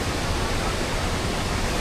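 A Costa Rican waterfall roars in a dense, steady rush of falling water, even and unbroken throughout with no voices.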